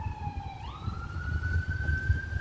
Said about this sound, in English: We have a siren going by.